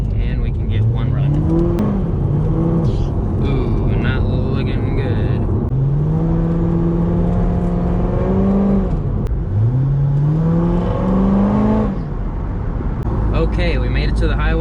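A 700 HP supercharged Corvette engine revs up repeatedly on a highway, rising in pitch through several gears in strong pulls, loud and close, with a voice talking briefly over it.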